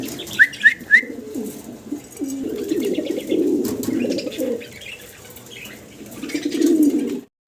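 Several pigeons coo in low, rolling phrases nearby at a pigeon farm, with a few sharp chirps early on and soft rustling between calls.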